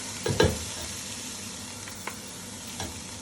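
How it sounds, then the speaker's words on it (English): Chopped tomatoes drop into browned onions frying in a pan for a chicken curry, a brief close clatter and hiss at the start, then a low steady sizzle with a couple of faint stirring knocks. "Now here is 3 chopped up tomatoes going in."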